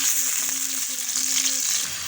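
Onions fry and brown in a pan for chana dal, giving a loud, close, continuous sizzle with faint stirring underneath.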